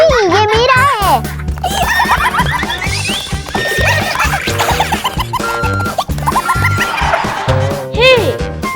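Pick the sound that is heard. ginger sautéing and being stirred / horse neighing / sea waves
horse neighing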